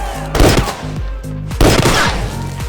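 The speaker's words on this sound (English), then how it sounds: "After several gunshots, the yard fell silent." Several sharp gunshots ring out in a prison yard, a quick cluster of loud cracks followed by another burst, fairly close.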